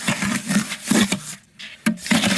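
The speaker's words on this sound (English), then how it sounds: "gonna mix this a little bit more" Gritty scraping and rubbing of mortar being stirred in a bucket for a pizza oven build, coming in repeated close strokes with a short pause partway through.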